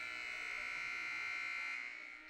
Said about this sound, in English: That's the buzzer going to signal the start of the second period